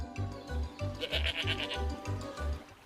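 A goat on a farm bleating in a rapid, regular series of about eight wavering calls, close and clear, with no talk over it.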